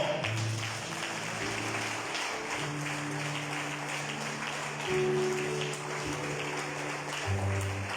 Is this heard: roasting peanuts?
no